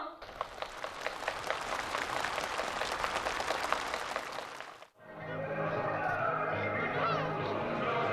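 Enthusiastic applause from participants at a new-housing ceremony for farmers in Nampo, with dense sustained clapping for about five seconds before it cuts to a speaking voice.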